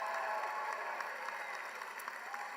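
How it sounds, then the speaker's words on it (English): A steady, fairly distant wash of crowd applause rises from the audience at an honors society induction ceremony, heard alone without speech. "let's hear a huge round of applause for all of our newest inductees"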